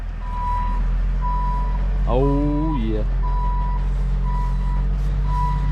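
A truck's reversing alarm beeps in a steady rhythm over a low idling engine at a farm as a feed truck comes in, and a person speaks briefly midway.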